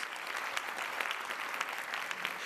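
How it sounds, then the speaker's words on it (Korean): A university lecture audience bursts into applause, a dense, even wash of many hands clapping with no talk over it. "축하드립니다 하면 박수가 나올 줄 알았는데"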